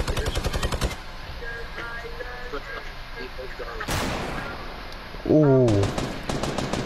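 Gunfire in the Fortnite Battle Royale video game: a rapid burst of shots opens, then a sharp single blast and another quick volley, loud and close, while a player briefly reacts aloud.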